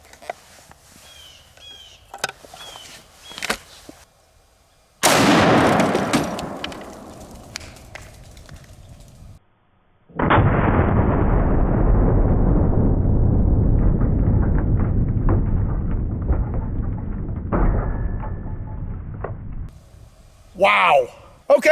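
A 700 Nitro elephant gun fires a 1,000 grain full metal jacket round outdoors, a huge nearby blast with a long rolling echo, followed by a second heavy boom, with people talking around it.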